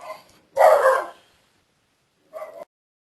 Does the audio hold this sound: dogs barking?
yes